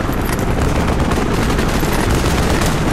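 Dense, continuous automatic gunfire from the video game Call of Duty Black Ops in a Vietnam War battle scene, loud and close, with rapid overlapping shots and no speech.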